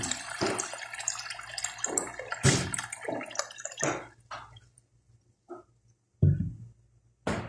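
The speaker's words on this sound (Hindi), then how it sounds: "अब हम इसमें पानी ऐड करेंगे" Water pours into a pot of fried masala and chickpeas for a curry, heard as several close splashing, gurgling bursts separated by quiet pauses, with no talking.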